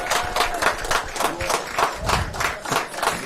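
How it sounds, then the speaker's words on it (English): Audience clapping for the PSAC West champions, short rhythmic applause in regular pulses, fairly close and moderately loud, no voices. "how about if we give a round of applause to the champions of the PSAC West?"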